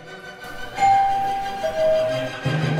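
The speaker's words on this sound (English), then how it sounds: "How about you come outside and ring the doorbell, and I will go inside and listen to it." A house doorbell rings indoors: a clear chime tone rising then falling to a second note, followed by a lower repeated tone, fairly close, with no talking.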